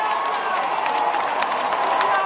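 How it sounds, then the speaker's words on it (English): Thousands of people in St. Peter's Square at the Vatican cheering as white smoke rises from the Sistine Chapel chimney, a distant, sustained roar of crowd voices and scattered shouts. "Thousands cheering when white smoke emerged from the chimney at the Vatican Sistine Chapel"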